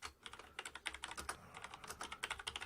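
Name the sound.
typing a message on a computer keyboard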